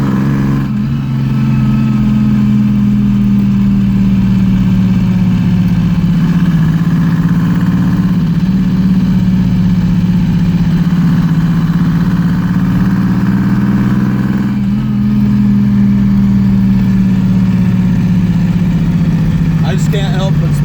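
Toyota fitted with a two-stroke diesel engine drones steadily while being driven, a loud continuous low hum that rises and falls slightly in pitch, heard from inside the vehicle with no talking.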